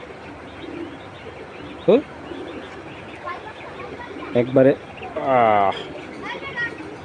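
A racer pigeon gives several short, throaty coos spaced across the span, heard close under someone talking continuously over a low background hum.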